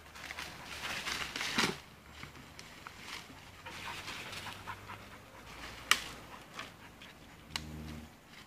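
Five-month-old Rottweiler puppy panting close by, quick soft rhythmic breaths with light patter and a few sharp ticks, fairly faint, no talking.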